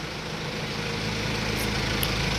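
A Bullet motorcycle engine runs at a steady, loud, close idle with a constant low rumble and no talk.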